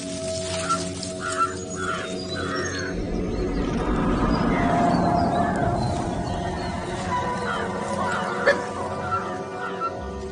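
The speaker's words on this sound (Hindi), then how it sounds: "ये अलार्म कॉल्स मुझे लेकर नहीं दी जा रही।" Wild animals in the Kabini forest give alarm calls, a series of shrill cries and squeals over a busy forest background, rising and falling over several seconds, moderately loud and without talk.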